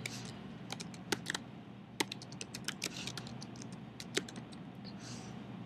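Someone types a title on a computer keyboard, with irregular close clicking keystrokes, some sharper taps standing out, and no talking.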